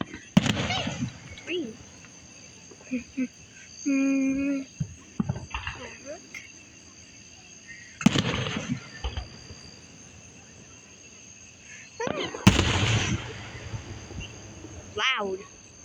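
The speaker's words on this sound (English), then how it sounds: "Fireworks." Fireworks explode at an outdoor show, with a few sharp, booming bursts spaced seconds apart. Crickets chirp steadily and people talk between the blasts.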